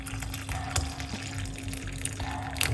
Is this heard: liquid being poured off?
yes